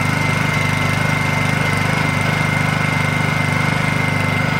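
A Honda 2000i inverter generator runs steadily at close range, a constant mid-pitched engine drone with a fine rapid pulsing, loud and unchanging throughout with no voices.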